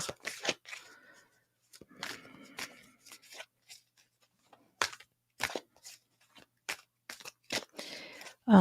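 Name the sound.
shuffling cards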